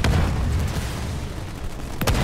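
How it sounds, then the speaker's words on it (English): Gunfire and booming blasts from ground troops in the Halo Wars 2 video game on PC, a dense, continuous roar of shots with a sharp burst near the end. "I'm under fire from ground troops"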